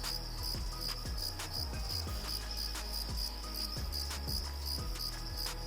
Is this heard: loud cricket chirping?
yes